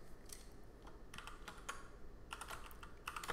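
Typing a preset name on a computer keyboard: clusters of quick, crisp key clicks close to the mic at low volume, with brief pauses between bursts.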